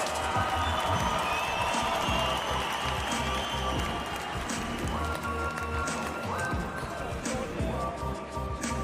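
A crowd at a BMX park competition cheers and applauds for an Estonian rider from Tartu, a dense sustained roar under music and an announcer's amplified voice.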